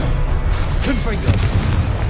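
A Confringo blasting spell bursts in the video game Hogwarts Legacy, played on PC on hard mode, a short muffled boom and rumble heard under a voice talking over it.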